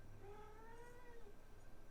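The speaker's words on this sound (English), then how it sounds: "Got a whining cat over here." A cat whines in a drawn-out, wavering meow that rises and falls over a couple of seconds, fairly close but not loud, with no talking.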